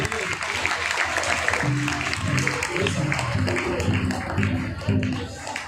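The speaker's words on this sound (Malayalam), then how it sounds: "എല്ലാവർക്കും കൈയടി." A crowd at an Onam event breaks into steady, continuous clapping that fills the whole stretch, while a voice carries on speaking over it.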